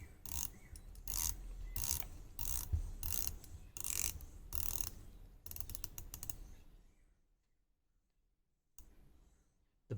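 Addiesdive MY-H9 dive watch bezel being turned in a rapid series of loud, close ratcheting clicks in bursts, tapering off into near silence before one last brief click.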